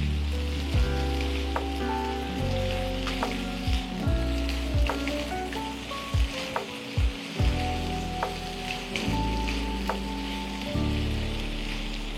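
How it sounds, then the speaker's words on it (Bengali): Sliced onions frying in oil until brown, a loud continuous sizzle close by, punctuated by repeated clanks and scrapes of a spatula stirring against the pan, with no one talking. "এবার পেঁয়াজটা ভালো করে ভাজতে হবে,"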